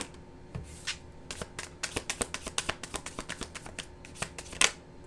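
Tarot cards are shuffled and drawn by hand, a quick close flurry of crisp riffling flicks that builds into a rapid run and ends with a louder slap of cards.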